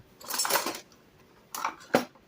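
An all-metal cooking utensil clinks and scrapes in three short bursts beside an old camping pan, loud and close with brief quiet gaps between.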